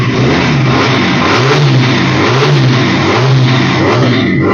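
A Rigel Spider motorcycle parked on its side stand revs hard close by, the engine holding a loud, rising and falling roar with rhythmic throttle swells and no talking.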